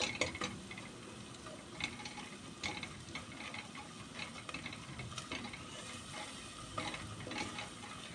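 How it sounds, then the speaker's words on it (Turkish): Flour is stirred and toasted with caramelized onions in a pan for potato soup, a quiet, close sizzle with repeated scraping strokes of a spoon, and no talk. "Biraz da unumuzu kavuruyoruz kokusu çıkana kadar."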